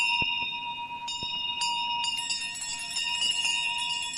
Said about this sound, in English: Every bell in the house was ringing.